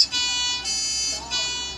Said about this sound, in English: there was the sound of a siren